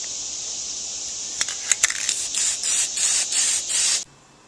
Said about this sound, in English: This is a clear acrylic. So we'll go ahead and spray it with that and protect it from any future rust.